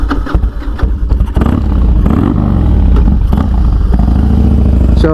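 A motorcycle engine revs loud and close, rising through sharp throttle blips into a sustained high, strained roar, as a rider warms up for wheelies and drifts; no voices.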